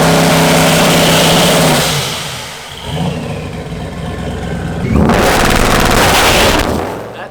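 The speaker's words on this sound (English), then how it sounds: "I'll show both two-step clips from both cars." A 2019-or-newer Ford Mustang with an N2MB WOT Box two-step launch control revs up loud and close, holds a steady rasping drone, dips briefly, then surges again into a sharper, harder-edged burst near the end.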